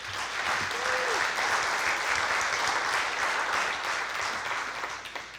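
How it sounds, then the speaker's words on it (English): Audience applause at a Hall of Fame induction ceremony, steady and full for the whole stretch as a crowd claps for student servers, with only a faint murmur of voices underneath. "If you could give them a round of applause."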